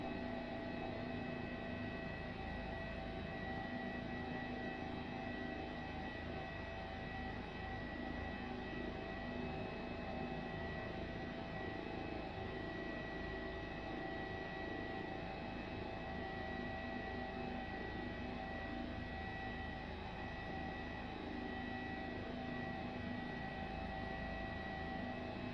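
Steady, faint rotor and turbine drone of an HPG 135 helicopter in Microsoft Flight Simulator, cruising forward over the Grand Canyon with an unchanging hum and no other sounds.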